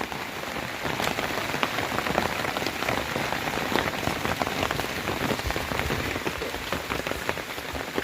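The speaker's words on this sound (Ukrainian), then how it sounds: "Іде у нас такий дощ." Rain pours down outdoors over a vegetable garden, a continuous close hiss with sharper individual drops and drips tapping through it. No one speaks.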